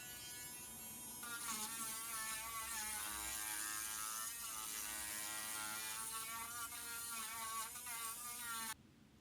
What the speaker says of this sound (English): I'm gonna use my rotary sander just to clean up all of the cuts